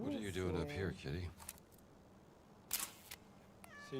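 A cat in Indiana Jones and the Great Circle gives a short, close meow at the start, followed by quiet game ambience, a couple of sharp clicks and a faint high call near the end.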